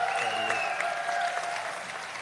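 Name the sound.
audience applause for the honoree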